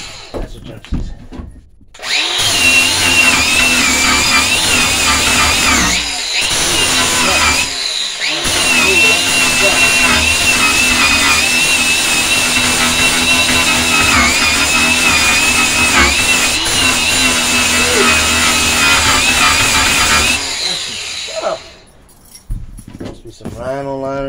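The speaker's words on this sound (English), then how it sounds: "before you weld, Jim always says grind a good spot" An angle grinder grinds down bare metal in a van under conversion, preparing a spot for welding: a loud, steady high-pitched whine held for most of the stretch with brief pauses, and a voice speaks over it near the end.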